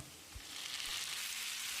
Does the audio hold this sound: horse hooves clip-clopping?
no